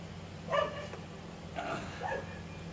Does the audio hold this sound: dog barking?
yes